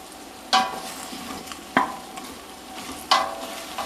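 Pork and onions sizzle in a pot for a stew of pork and collard greens, a steady frying hiss broken by three sharp stirring scrapes spaced about a second apart.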